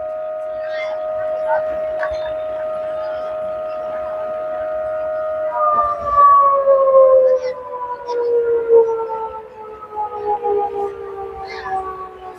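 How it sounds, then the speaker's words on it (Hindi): Dam siren sounding at Omkareshwar during a water release on the Narmada, a loud sustained wailing tone that holds steady and then slowly falls in pitch, with people talking underneath. "बार बार सुन पा रहे होंगे डैम का सायरन बज रहा है।"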